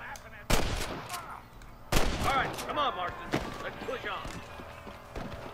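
Gunshots ring out in Red Dead Redemption, two sharp, loud cracks a couple of seconds apart followed by scattered fainter shots, with voices talking over them.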